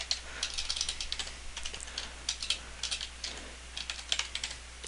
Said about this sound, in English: Having a tough time typing tonight.